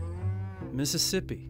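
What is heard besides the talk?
cows mooing on a ranch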